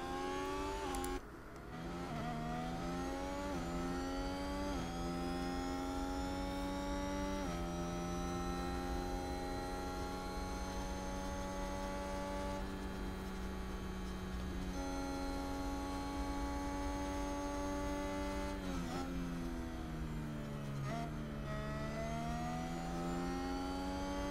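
A Ferrari Formula 1 race car engine in a video game howls at high revs, its pitch climbing and dropping at repeated gear shifts, loud and continuous throughout.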